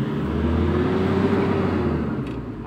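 A Toyota Fortuner with Blackcore tuning accelerating from first gear straight into third, a steady close engine drone and whir from inside the cabin that eases slightly near the end, with no talking.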